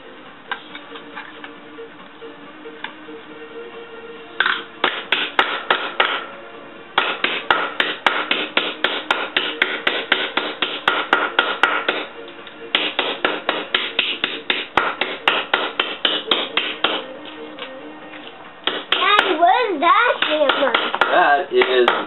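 Rapid metallic hammer blows ring out in quick bursts with short pauses between, close and loud, as a 1970 Triumph TR6 fender patch panel is curved on a wooden stump, followed by a denser flurry of strikes at the end.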